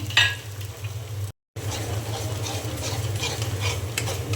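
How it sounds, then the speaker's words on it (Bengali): Beaten eggs stirred and fried in a pan with fried onions and potatoes while cooking biryani, a steady close sizzle with scraping stir strokes, briefly cut out partway through. "এখন ডিমটা আমি খুব ভালো করে এইভাবে ঝুড়ি ঝুড়ি করে নেব"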